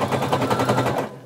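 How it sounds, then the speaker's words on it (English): A sewing machine stitches around the edge of a swimsuit strap, giving a steady, fast rattling hum of needle strokes, close and fairly loud, running for about a second before cutting off. "we're going to sew all the way around"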